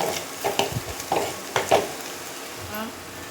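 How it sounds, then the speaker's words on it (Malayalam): Turmeric powder being stirred in a cooking pan, a few soft scraping strokes of a spoon over a low background hiss with faint sizzle. "മഞ്ഞൾപ്പൊടിയുടെയൊക്കെ ആ പച്ചമണം മാറുന്ന വരെ നന്നായിട്ടൊന്ന് ഇളക്കി കൊടുക്കാം"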